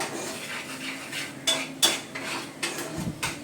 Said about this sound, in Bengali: নুন দিয়ে এবার ভালো করে একটু নাড়বো